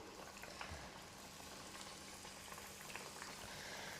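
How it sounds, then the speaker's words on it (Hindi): Prepared breakfast snack pieces frying in hot oil in a pan, a steady soft bubbling sizzle with faint crackles, low and even throughout with no talking. "जब तेल गर्म हो जाएगा तो अपने तैयार नाश्ते को इस तरह से डालेंगे।"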